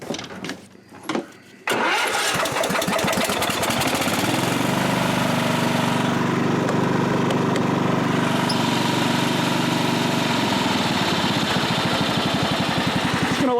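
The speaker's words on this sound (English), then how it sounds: "Just gonna let it idle a little bit." A tractor engine cranks and catches after a dose of starting fluid, then settles into a loud, steady close idle with a rattling rhythmic thrum.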